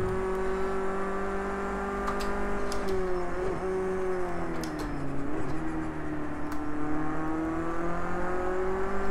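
Race car engines in the video game Project Cars 2 droning steadily, the pitch rising and dipping as they shift, with faint clicks now and then.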